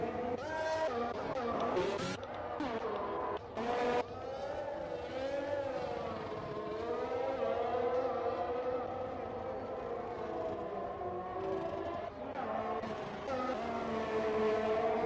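Race cars in a sim racing game at the Russia track, Sochi: steady loud engine drone with whining pitch sweeps as revs rise and fall through gear changes, running throughout with no clear gaps.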